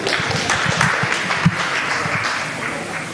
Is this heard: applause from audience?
yes